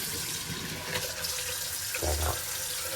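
A Japanese hotel washbasin emptying through its stopper drain, steady close gurgling rush of water with a brief low thump near the end, no talking.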